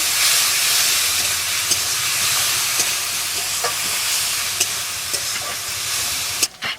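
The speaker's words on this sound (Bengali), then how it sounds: "অল্প জল দিয়ে মশলাটা ভালো করে কষে নেব" A cumin-coriander spice paste with a splash of water sautés in a pan, giving a steady, steamy hiss and sizzle with occasional faint scrapes of stirring, close and continuous.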